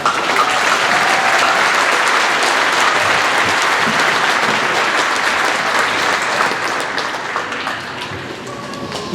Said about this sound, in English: we want to give her a huge round of applause